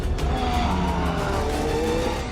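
Race car at Silverstone circuit driving flat out, engine note rising and falling with tyre squeal through fast left-right changes, loud and close.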